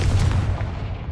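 A Confringo fire spell explodes in the Hogwarts Legacy video game, a single loud, deep boom with a rumbling tail that fades over about a second, heard alone.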